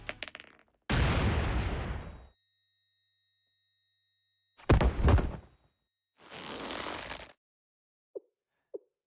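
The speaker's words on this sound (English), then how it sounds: "A flash bomb?" Flash bomb bursts in the anime-style game Blue Archive during a close-quarters fight: three separate noisy blasts with a thin, high ringing tone hanging between them, then two tiny clicks at the end.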